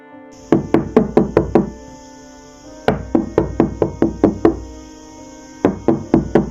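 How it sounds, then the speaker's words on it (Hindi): Someone raps firmly on a door in three separate bursts of about six or seven quick knocks each, close and loud with short pauses between the rounds. "दरवाजे पर दस्तक होती है"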